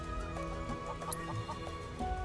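Chickens cluck in the Final Fantasy VII Rebirth video game, with short repeated clucks scattered over a steady layer of game music and ambience that continues throughout.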